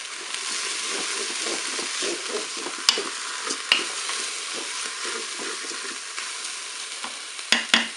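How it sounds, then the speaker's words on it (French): Rice is stirred in a Cookeo multicooker pot, giving repeated close scraping strokes in an even rhythm over a soft sizzle, with a couple of sharp clinks of the spoon against the pot. "On mélange bien sûr."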